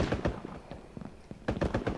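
Bursts of rapid gunfire from a battle royale video game crackle in two quick clusters with a pause between, fairly faint and without talk.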